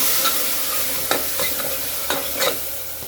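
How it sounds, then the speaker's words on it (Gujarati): A spoon stirs a spice mix of turmeric, red chilli powder and coriander-cumin with tomatoes for a bottle gourd curry in a pan, giving several distinct close scrapes over a soft, steady sizzle. "હવે તેને મિક્સ કરી લઈશું।"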